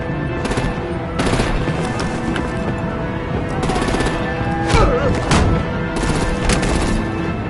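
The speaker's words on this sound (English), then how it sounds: "Bring out the artillery and disable their vehicles!" Heavy gunfire and artillery fire aimed at vehicles in a Batman video game battle: dense bursts of shots and booms that rise and fall continuously over a steady loud background.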